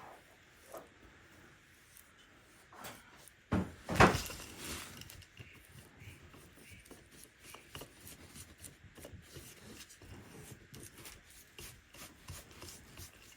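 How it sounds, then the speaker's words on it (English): A brush lays black paint onto the handles and end of an upcycled wooden rolling pin, giving soft, close rubbing strokes with one louder knock near the middle and no talk. "now I'm just going to paint the end and the handles black"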